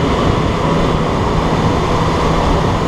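Tires of a Jaguar XJ6 rolling over grooved asphalt channels on a road toward São Paulo give a loud, steady, train-like rumble with a faint hum, heard close from inside the car and without speech.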